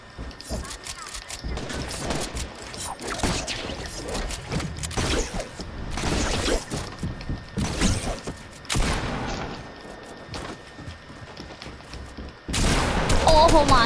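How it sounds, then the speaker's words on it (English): A drum gun in Fortnite fires in rapid bursts with mechanical clatter, loud and up close, while players talk over the gunfire. "we can use drum guns"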